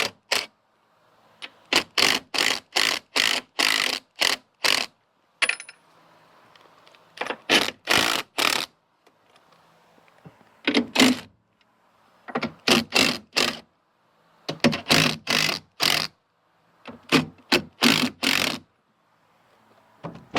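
A 3/4 inch socket wrench loosens bolts on a John Deere 643 corn header, producing rapid bursts of sharp ratcheting clicks in short repeated runs separated by brief pauses, close and clear with no talk.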